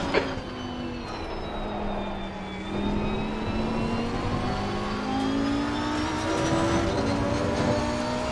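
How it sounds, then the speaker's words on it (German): Porsche race car engine in Assetto Corsa Competizione, held at a loud sustained roar whose pitch sags and then climbs steadily through acceleration, with another car's engine droning beneath it. "Beim Rausbeschleunigen, da ist der Porsche auch König"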